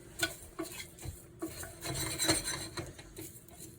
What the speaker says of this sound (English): we're going to go in with our cumin, our coriander, and our caraway seed